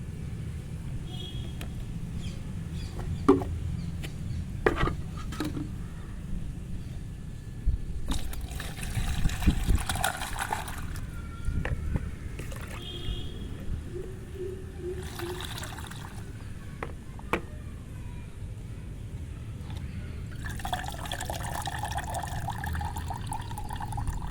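Water steeped with onion peels is filtered and poured, giving several gentle trickling and pouring bursts with soft handling clatter in between, close and moderately quiet.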